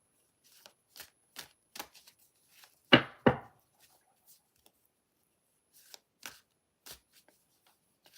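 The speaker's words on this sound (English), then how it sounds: "I'm shuffling my tarot decks." Tarot card decks being shuffled in a quiet room: scattered soft riffling flicks and taps, with two louder close riffles near the middle, then sparse light card snaps.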